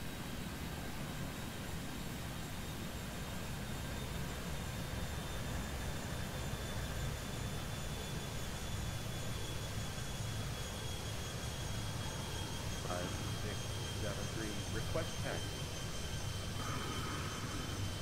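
A jet airliner cleared off runway 24 right in the airport game Airport Madness 3D at Toronto, its engines a steady, loud broadband roar that holds for the whole stretch with faint tonal whine above.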